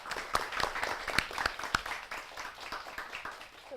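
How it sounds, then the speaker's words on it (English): A small studio audience gives a brief round of applause for a guest on a money-saving show, sparse and fairly faint, with a few distinct sharp claps over the softer patter. "can we have a big round of applause for our guest today, Faye?"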